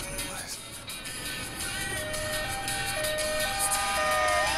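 An emergency vehicle siren wails with a rising and falling tone in the video game BioShock Infinite, steady and fairly loud over a low rumble of background noise.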